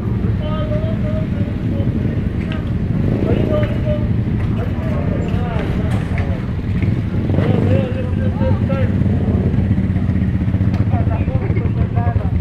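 A classic motorcycle engine and its exhaust pipe drone steadily during a group ride, a low continuous rumble with people talking over it.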